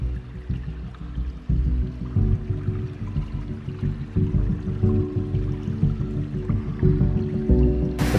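A small waterfall cascade spilling into a villa swimming pool, a continuous close splashing and gurgling rush of falling water, steady and fairly loud throughout.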